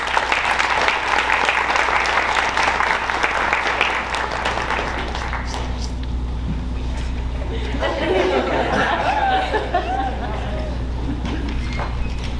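Audience at a school Academy of Finance breakfast applauds to welcome the board chairman, a steady dense wash of clapping for several seconds that thins into scattered claps and murmuring chatter.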